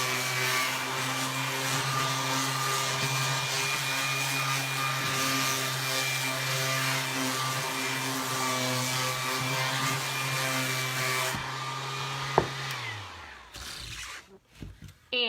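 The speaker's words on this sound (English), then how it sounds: "So now I'm just gonna take my sander quick and sand around the edges." Electric sander running steadily on the edges of a painted wood sign, a loud continuous motor drone with a strong hum that winds down near the end, followed by a few clatters.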